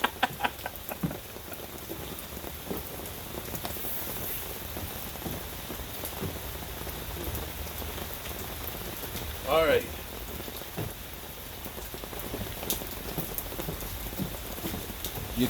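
Cold rain falling steadily outdoors, an even close hiss of drops on surfaces lasting throughout, with a brief louder patter partway through and no talk.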